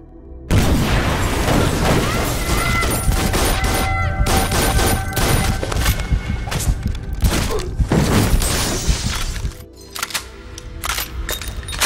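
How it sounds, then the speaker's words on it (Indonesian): A brutal gunfire exchange in an action film rings out in dense bursts of shots and booms, loud and chaotic, with a short lull before more firing. "Kemudian terjadilah baku tembak yang sangat membrutalkan."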